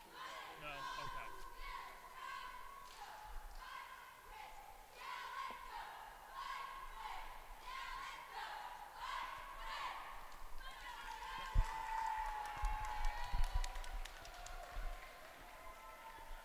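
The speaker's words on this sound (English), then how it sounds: "that was the Vicenza cheer squad out there" Girls' basketball championship game in a gym, with the Vicenza cheer squad chanting rhythmic, repeated cheers over crowd noise, moderately distant, ending in a louder burst of crowd sound and scattered thumps.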